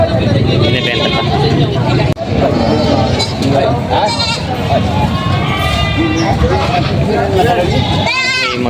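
Goats, including fullblood Boers, bleat repeatedly amid a busy livestock market, their cries mixed with a crowd's babble and people talking close by.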